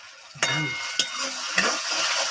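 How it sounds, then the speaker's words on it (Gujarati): Tomato sauce goes into a hot pan and is stirred, with soft sizzling under three distinct clinks of a utensil against the pan. "હવે નાખશું ટમેટાનો સોસ લાલ લાલ એકદમ મસ્ત"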